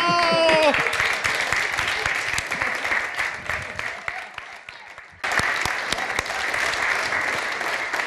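A studio audience applauds for a singer on a TV show, with dense, steady clapping that runs throughout. It drops briefly near the middle, then surges back at full strength.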